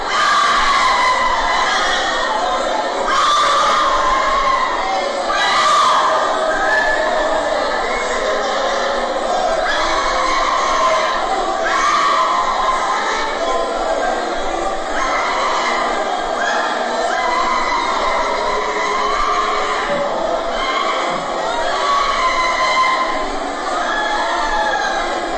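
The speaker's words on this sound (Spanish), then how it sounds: "se oyen gritos así," A large crowd shouts and cries out at a religious revival meeting, a dense, loud continuous roar of overlapping voices with rising surges of yelling, heard throughout.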